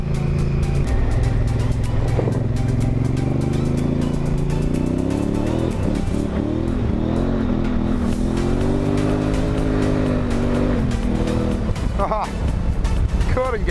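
A roughly 95-horsepower motorcycle rides over loose gravel on a rural road, its engine droning steadily and shifting in pitch as it climbs and eases off, with voices talking over it throughout.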